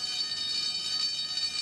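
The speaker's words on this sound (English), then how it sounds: "The alarm has sounded!" A fire alarm sounds as a steady, high-pitched electronic ringing tone in a toy train show with a fire engine, holding evenly throughout without talk.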